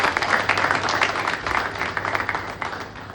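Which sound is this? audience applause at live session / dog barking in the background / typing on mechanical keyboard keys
audience applause at live session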